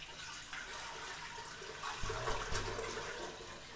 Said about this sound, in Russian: просто воду оставшуюся выливаем